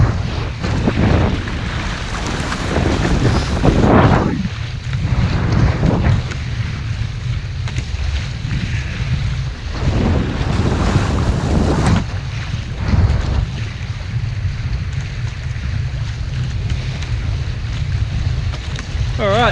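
A Hobie 16 catamaran out sailing, with steady wind rushing across the microphone and waves washing against the hull, loud and continuous throughout with periodic stronger gusts.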